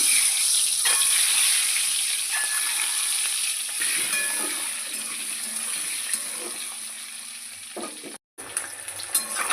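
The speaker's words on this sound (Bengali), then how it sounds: "গরম হয়ে গেছে, আমি ডিমগুলো ছেড়ে দিব ভাজার জন্য।" Eggs fry in hot oil in a wok with a steady, close sizzling hiss that fades slightly midway, a few faint clinks, and a brief dropout near the end.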